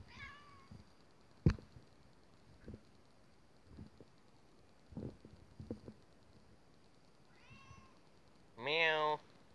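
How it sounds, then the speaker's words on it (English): A cat meows a few times, the last meow loud and drawn out, amid soft thumps, taps and faint rustling. "Meow."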